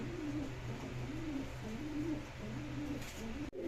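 Silver Lahori pigeons coo in a low, repeated rolling rhythm, close by, over a steady background hum, with a brief knock near the end.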